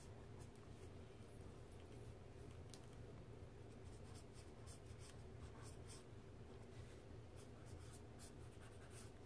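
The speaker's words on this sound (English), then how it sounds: "I'm gonna go ahead and sketch those in" A pencil sketches a nose and face on paper, soft continuous scratching strokes close up and faint, with no talking.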